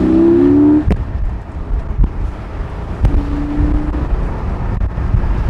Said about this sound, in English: As you build speed, this car gets very nice.